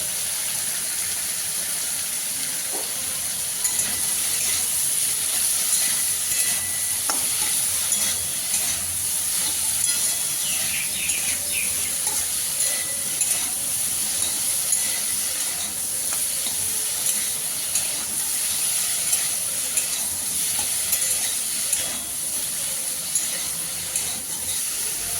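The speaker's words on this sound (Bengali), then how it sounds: "এবারে সব সবজিগুলো আমি 4 থেকে 5 মিনিটের মতো সময় ধরে কষিয়ে নিচ্ছি" Cabbage and mixed vegetables with turmeric and salt sauté in a pan, giving a dense, unbroken sizzle over the whole stretch, with faint stirring scrapes now and then.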